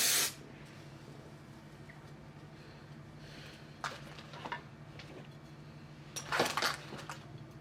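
Hair spray misted onto a lace wig to lay it flat, heard as a short hiss at the start, then quieter gaps and a few soft bursts, with a longer close spray toward the end.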